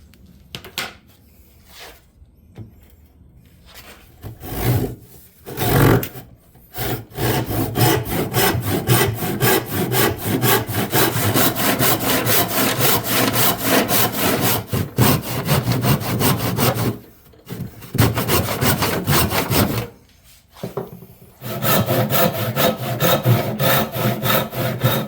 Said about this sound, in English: Now I can put my bigger saw and start there.